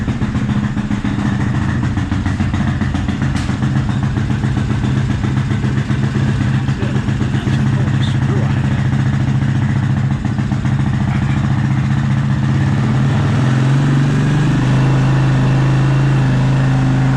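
A 2004 Suzuki LTZ250 ATV engine runs loudly and continuously with a carburetor starving for fuel, giving a rough, pulsing idle that shifts lower and heavier near the end.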